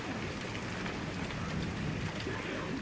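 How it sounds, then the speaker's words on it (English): Heavy rain pours down steadily during a hailstorm with no wind, a dense continuous hiss of drops drumming on surfaces, close and loud throughout with no talking. "It is coming down something fierce. Look at, oh, the rain's coming through the screen."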